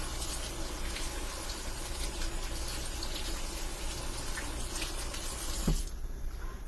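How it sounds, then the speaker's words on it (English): Produce is rinsed under a running kitchen tap, a steady close splashing gush that goes on for several seconds and then cuts off abruptly near the end. "So now I'm going to rinse this guy."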